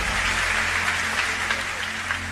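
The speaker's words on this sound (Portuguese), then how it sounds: "pode levar uma salva de palmas para o nosso grande amigo aqui" Church congregation applauds a friend at a service led by Pastor Marco Feliciano, a brief, even spread of clapping over a low steady hum, moderately loud with no single claps standing out.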